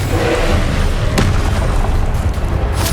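Confringo spell explosions in the video game Hogwarts Legacy, a dense, loud, continuous rumble of booms with one sharper blast near the middle.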